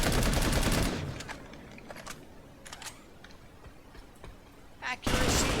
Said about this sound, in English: So the Gauss assault rifle, it does good damage.